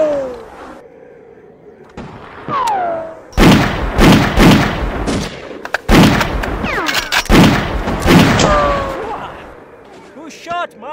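Gunshots crack out in a film scene: several loud, sharp bursts of gunfire in quick succession, mixed with thuds and scattered voices.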